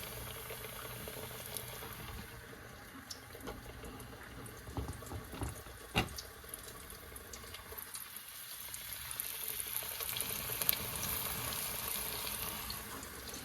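Floured, battered pork ribs lowered meat side down into hot oil for deep frying give a steady, fairly quiet bubbling sizzle with faint crackles and a few sharper pops, continuous throughout.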